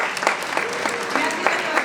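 A crowd applauds at the town proclamation of the 175th Candelera fair, steady clapping with a few sharper claps standing out and voices talking faintly underneath.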